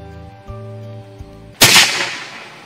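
An air rifle set up for big game fires a single loud, sharp shot after a second and a half of quiet background hum, the report decaying quickly.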